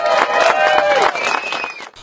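An audience claps and cheers for an improvising akyn poet at a village gathering, a loud burst of applause mixed with voices that fades out within two seconds.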